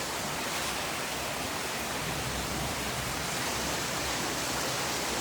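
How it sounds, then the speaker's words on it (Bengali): Heavy rain pours onto a balcony, a dense, steady, unbroken hiss of falling water, loud and close, with no voices. "এখন অনেক অনেক বৃষ্টি নামতেছে, বারান্দায় সব পানি চলে আসতেছে"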